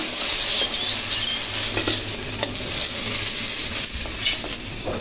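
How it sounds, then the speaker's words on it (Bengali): Brinjal fritters fry in oil with a loud, close crackling sizzle, along with clicks and scrapes as they are turned and lifted out. "উলটপালট করে ভেজে নেওয়ার পর বড়াগুলো একদম ভাজা হয়ে গেছে।"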